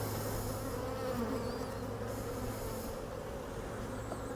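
Honey bees buzz steadily in a dense, continuous drone close by as a hive is opened for its first spring inspection, with no voices over the sound.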